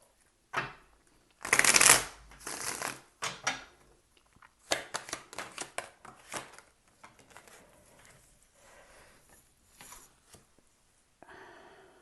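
Tarot cards are shuffled close by in several quick riffling bursts with brief pauses between them. Soft handling sounds fill the gaps, and no one speaks.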